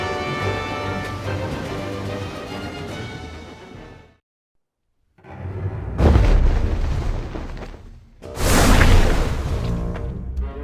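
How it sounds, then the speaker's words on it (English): Rundal cannons booming in a lake battle, heavy blasts and whooshing bursts arriving in loud waves separated by a short silence, with no voices. "Those are the sounds of Rundal cannons."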